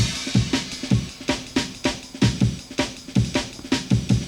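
Lofi drum and bass breakbeat built in Ableton Live: a fast, punchy chopped break of snappy snares and kicks in a steady driving rhythm, loud and without voices.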